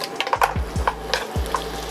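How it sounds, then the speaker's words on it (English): Pork belly sizzles in a hot pan while a utensil scrapes and stirs, giving a few quick knocks against the pan. "So you can hear it sizzling now. Stirring, lovely stir."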